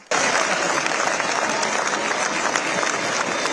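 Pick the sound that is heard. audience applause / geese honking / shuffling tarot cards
audience applause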